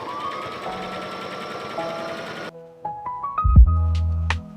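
Sewing machine stitching quilted book sleeve pieces together, a steady running buzz for about two and a half seconds before stopping, followed by louder clunks and a low hum from handling the fabric and machine.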